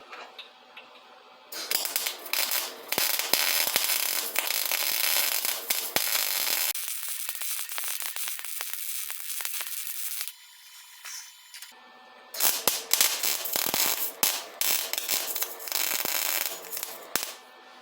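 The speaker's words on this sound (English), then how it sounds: "There we go, now I can weld this up properly." A wire-feed MIG welder lays beads on a rear shock mount for an Avro Speedster, giving close, loud crackling and sputtering bursts in several long runs, broken by short pauses and a quieter hissing stretch.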